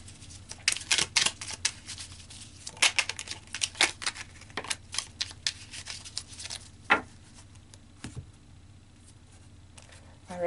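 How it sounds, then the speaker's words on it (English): Tarot cards being shuffled and pulled from the deck: repeated close papery flicks, rubs and snaps in uneven bursts, with brief quiet gaps between handlings. "So let's pull more cards."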